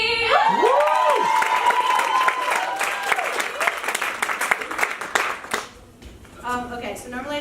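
Loud applause and cheering with whoops from an audience at a spoken-word poetry event welcoming a poet to the stage; it swells early, thins into scattered claps, then fades as a voice begins.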